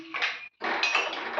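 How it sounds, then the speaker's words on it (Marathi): An onion being chopped in a farmhouse kitchen, knife clacking against a board in close, busy strokes with a short pause midway. "कांदा का चिरताय"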